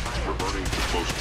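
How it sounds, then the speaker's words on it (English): Laser turret in Fallout 4 firing a steady stream of rapid shots, dense and continuous across the whole moment, with game sound and faint voice-like tones mixed in. "A laser turret."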